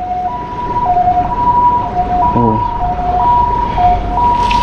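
An ambulance siren wails in a steady two-tone cycle, moderately loud against outdoor background noise, with a brief exclamation from a nearby voice.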